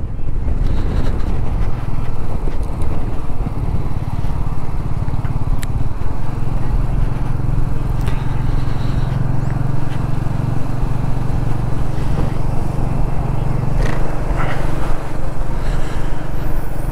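A Royal Enfield Meteor 350 motorcycle is ridden, its engine a steady loud drone mixed with wind rush over the microphone, holding a constant tone throughout.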